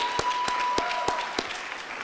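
Scattered claps from an audience at an evening awards show, a few distinct sharp hand claps spaced out over a faint steady background, rather sparse and thin.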